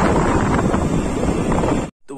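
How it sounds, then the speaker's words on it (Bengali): A heavy storm of wind and rain roars loud and unbroken at close range, then cuts off abruptly near the end. "ঝড় চলে বৃষ্টিতে"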